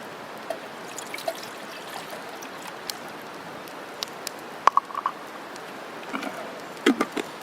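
Water trickles into a metal canteen cup, measured for cooking jasmine rice: a soft, faint, steady pour with a few small metallic clinks and splashes near the end.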